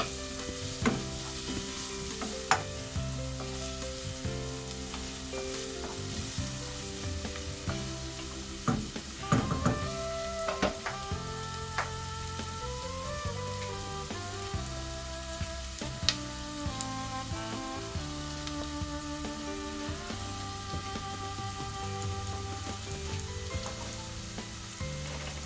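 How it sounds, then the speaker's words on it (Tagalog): Onions sizzle steadily in a pan as tomato is added for pulao, a constant crackling fry. Sharp scrapes of stirring and utensil clinks break through now and then. "Pag mag-golden brown ko na siya guys, ilagay ko yung tomato"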